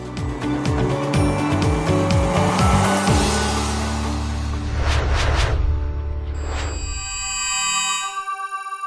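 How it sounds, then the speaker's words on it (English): A Seat Leon Cupra 290 on the road, its engine note rising and falling in a steady, loud drone with tonal sweeps and a few sharp transients near the end. "Now it's time to get behind the wheel of the new Seat Leon Cupra 290."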